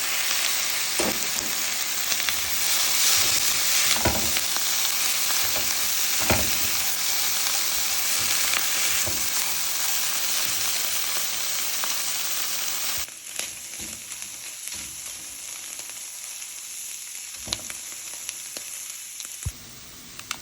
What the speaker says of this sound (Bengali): তো আমি এটা ভেজে নিচ্ছি।